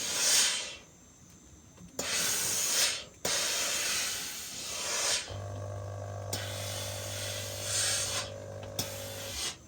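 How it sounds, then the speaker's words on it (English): A steam iron releases several loud, broad hissing bursts of steam separated by short pauses, and a steady low hum runs under the later bursts. "you're going to come and you're going to steam this stuff."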